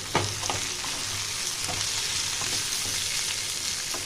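Onion and long-sliced pieces of a large brinjal fry together in a pan with a constant, close sizzle, broken by occasional scraping taps of stirring.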